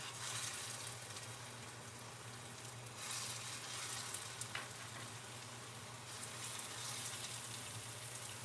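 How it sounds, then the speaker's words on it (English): Turkey meatballs sizzle steadily in a hot pan, a continuous dense frying hiss with slight swells and a few faint clicks and pops, close and moderately quiet, with no talking. "now that it's nice and hot, let's hope we hear a nice little sizzle."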